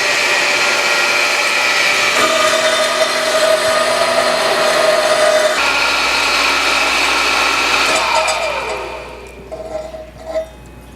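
A cold saw cuts metal stock for the legs of a child-size welded shop stool, clamped at an angle in a vise. The loud, steady mechanical grinding whine runs for about eight seconds, then winds down into clunks.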